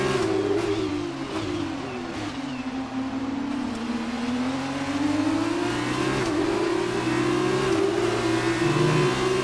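Formula 1 race car engine in the F1 2019 video game at Bahrain, revving steadily with a sustained whining tone that rises and falls through gear changes, loud and continuous with no talk.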